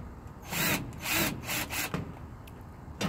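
Drill with a regular bit boring into a metal garage door while fitting decorative pieces, several rough grinding bursts in short pulses, close and fairly loud, with no speech.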